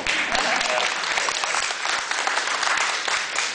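Dense, loud applause from a church audience fills the whole stretch, steady clapping from many hands with little variation.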